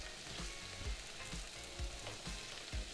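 Beans and bonitos cook in a pot on the stove with a soft, fairly quiet sizzle, broken by a few dull low thumps from stirring at intervals; nobody speaks.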